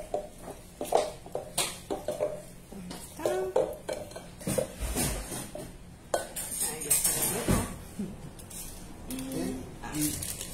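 An egg is beaten with a fork for potato tortitas, the fork clinking rhythmically against the bowl in quick strokes, with a voice talking in between.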